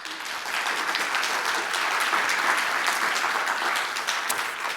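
Steady audience applause from a seated crowd welcoming two curators at a gallery talk, dense clapping sustained evenly for several seconds with no voices over it.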